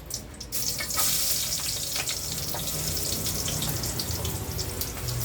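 Garlic dropped into a small amount of hot cooking oil while cooking chicken, sizzling and hissing steadily and loudly throughout after a brief quieter start.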